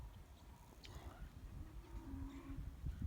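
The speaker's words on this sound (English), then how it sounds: "I can hear the neighbors' cattle moving." Neighbors' cattle stir in the distance on a rural property, with a faint, low moo rising near the end over quiet outdoor background noise.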